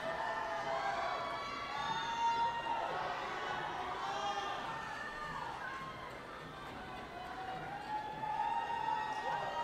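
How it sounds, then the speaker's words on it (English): Spectators at a youth world championship climbing competition cheer and shout for a climber on a lead route, a sustained crowd roar with swelling whoops that ebbs midway and surges again at the end. "The crowd are absolutely loving that one."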